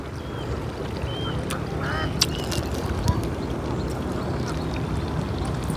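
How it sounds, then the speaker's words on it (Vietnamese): A flock of ducks tended by a young boy gives a few brief, moderately distant quacks over a steady outdoor hiss and low rumble. "chăm mấy con vịt"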